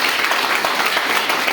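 An audience at a DXN family motivational class breaks into loud, dense applause, many hands clapping steadily and close, with no talk over it.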